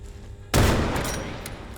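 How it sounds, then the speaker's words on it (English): A sudden burst of repeating rifle fire from the Prince Rifle in the game Grave/Digger, a loud crack followed by a rattling, decaying volley over about a second. "So for the Prince Rifle, you can either do single shot, reload after every shot,"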